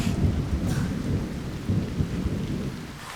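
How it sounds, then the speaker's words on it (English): Steady rain falling with a low, continuous rumble of thunder beneath it, a dense wash of sound with no voices. "the rain is a welcome relief"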